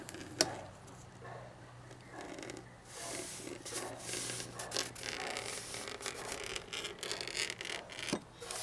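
A blade scores a line across a Jeep Wrangler YJ dash water shield in a steady, close scraping rasp that runs for several seconds after a sharp tap at the start.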